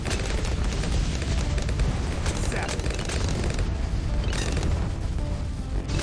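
Bomb shooter towers in the Bloons TD 6 Scrapyard map fire a dense, continuous barrage of overlapping blasts and pops, loud and steady throughout, with faint talk beneath the game noise.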